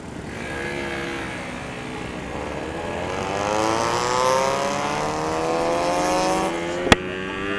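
A Yamaha RX King two-stroke motorcycle fitted with an Altech C20 exhaust revs and accelerates in a street race against a car, its buzzing engine note climbing steadily in pitch and loudness close by, with a sharp click near the end.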